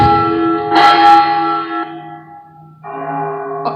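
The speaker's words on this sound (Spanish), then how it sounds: "las campanas de la ciudad." City church bells ringing with long, resonant tones that overlap and fade, a few louder strikes standing out, heard clearly without any talking.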